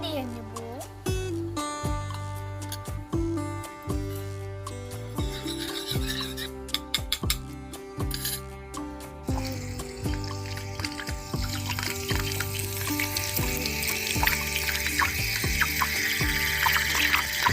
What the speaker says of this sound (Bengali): তেলটা গরম হয়ে গেছে, এর মধ্যে এবার আমি ডিম দিয়ে নেব।